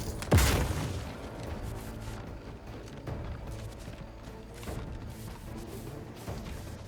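A grenade detonates in The Outer Worlds 2, a sudden loud boom near the start followed by a rumbling tail and continued gunfire-like thuds and game noise.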